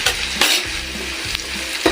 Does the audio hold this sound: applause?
no